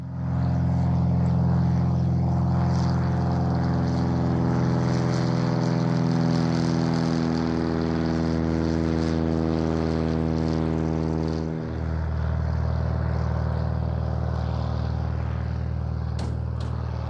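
A propeller airplane at a small-airfield chapter fly-in drones steadily and loud nearby, its engine hum shifting pitch slightly as it passes, with no talking.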